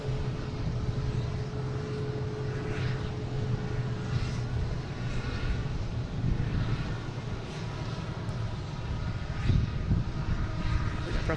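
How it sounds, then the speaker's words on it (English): An American Airlines Embraer E-175 takes off from Boston Logan, a steady broadband engine roar with a low rumble that holds at an even level throughout, heard from a distance with no speech. "And we have an American taking off, heading to St. Louis."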